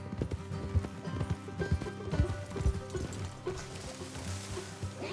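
Horse hooves clop in a quick galloping rhythm in the game Red Dead Redemption 2, fairly close, over a bed of background music with no voices.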